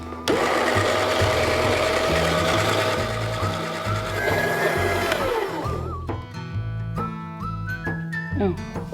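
A Fellow Ode Brew electric coffee grinder whirs loudly and steadily grinding 12 grams of beans, its pitch dropping as it winds down near the end, followed by rattling and clicking.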